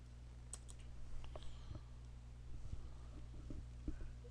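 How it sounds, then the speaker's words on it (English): Computer keyboard keys being tapped on a desk, with a handful of light, irregular clicks spaced across the stretch over a steady low hum, fairly quiet and close. "We're going to type in Firewall."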